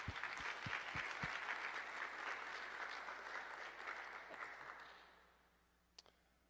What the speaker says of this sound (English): Can we give them a round of applause for all the people doing work?